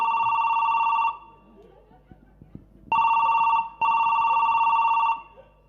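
A new mobile phone's ringtone in a Chhattisgarhi folk comedy stage show: loud electronic ringing in three long, steady bursts separated by short pauses, with people talking between them.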